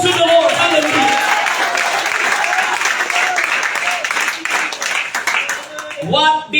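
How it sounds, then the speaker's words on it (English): A church congregation claps its hands in praise, a continuous, loud patter of many hands that holds steady, with a few voices rising near the end. "clap your hands unto the Lord"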